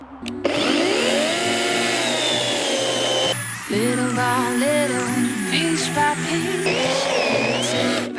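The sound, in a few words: Vitals ARZ 3640S cordless chainsaw cutting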